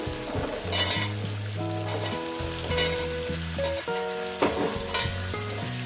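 Vegetables and chilli frying in a pan for shukto, a steady sizzle under a busy layer of background music, with no voices.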